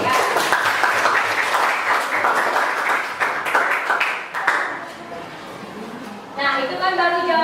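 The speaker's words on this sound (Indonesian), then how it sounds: "Jadi berikan aplaus dulu untuk kelompok 1." Classroom students applaud for the first group, a steady wash of clapping under some voices that fades briefly before a brighter burst near the end.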